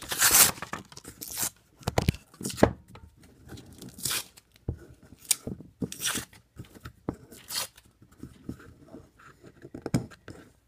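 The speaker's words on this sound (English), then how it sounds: "So sandpaper's almost done with. In fact, I'll take it off right now" Worn sandpaper is peeled and torn off the disc of a homemade bench-grinder disc sander in a run of sharp ripping and crackling bursts with short pauses between, close and fairly quiet.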